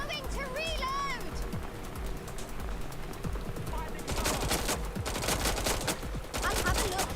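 Gunfire in the video game Watch Dogs Legion: dense, rapid automatic bursts in the second half after a stretch of scattered shots, with bird chirps and a voice talking beneath.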